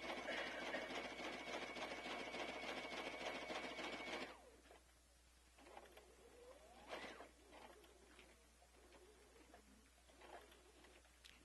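A sewing machine stitches sashiko embellishment, running steadily for about four seconds and then dropping to slow single stitches taken one at a time, quietly and close by.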